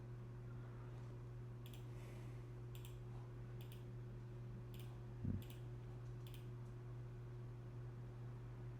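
Soft, faint computer mouse clicks tap out a handful of times at irregular intervals over a steady electrical hum in a quiet room.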